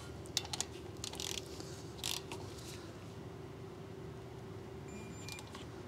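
A ratcheting wrench tightening a brake caliper slide pin bolt during a disc brake pad and rotor service, a few quiet clicking ratchet bursts early on, then a faint steady hum.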